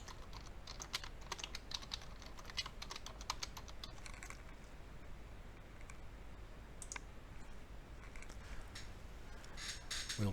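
Steady typing on a computer keyboard, entering a paper profile name: a continuous run of rapid, close key clicks at an even pace for about ten seconds, with no talking.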